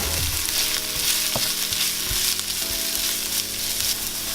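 Onions fry in a pan for chicken fajitas, giving a steady, close sizzle with a few stirring scrapes and clicks throughout, and no voices.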